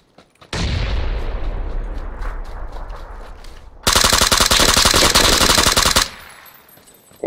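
Gunfire in the battle game PUBG: a long, loud stretch of dense shots, then a sharper, brighter volley of rapid automatic fire that stops abruptly near the end.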